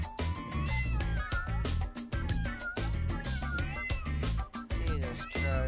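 Cats meow over and over in the video game Tasty Planet: Back For Seconds, rising and falling cries crowded together over a busy, loud game soundtrack.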